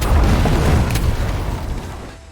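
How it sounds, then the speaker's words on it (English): A massive explosion in an animated film rolls out as a loud, deep boom with heavy rumbling that slowly decays over a couple of seconds, with no speech over it. "and Hank sets off a massive explosion."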